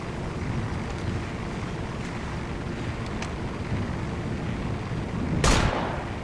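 Gunship aircraft approaching in a military video game, a steady low engine drone with faint distant shots and a sudden sharp burst near the end.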